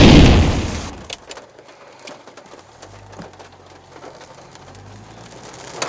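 Rain comes down outdoors, with a loud rush at first that settles into a steady, fainter patter. Scattered drips are heard, along with a low hum and soft bird coos.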